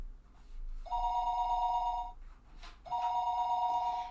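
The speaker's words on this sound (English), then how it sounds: "Just when I thought that, the phone rang" A telephone rings in two long electronic bursts separated by a short pause, steady and moderately loud in a quiet room.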